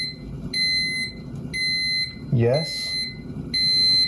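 A smoke alarm in a home kitchen gives a loud, piercing beep pattern in repeated one-second bursts with short gaps, while a person speaks briefly over it.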